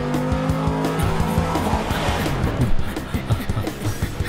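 A cartoon car speeds through a chase, its engine revving loudly with sharp tire squeals and skids, close and busy throughout.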